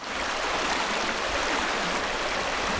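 Water flows steadily in an Arizona stream, a close, continuous rushing babble with an even, unbroken level and no voices.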